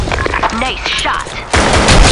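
Gunfire from an AK rifle in a shooting video game, a loud dense burst of shots that starts abruptly near the end, following game voice lines and effects.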